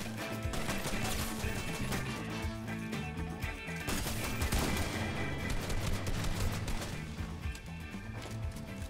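Video game gunfire in a chaotic shooter match: dense, continuous rapid shots and impacts layered over loud game music and effects, with no clear pauses throughout.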